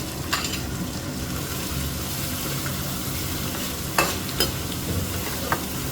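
Three large chopped onions fry in oil with cumin seeds, giving a constant close sizzle, while a spatula stirs them with occasional sharp scrapes and taps.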